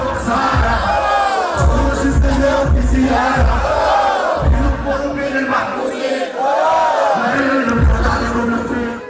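Concert crowd at the Bizerte festival in Tunisia, loud and close, cheering and chanting in rhythmic waves with repeated surging shouts and whoops throughout.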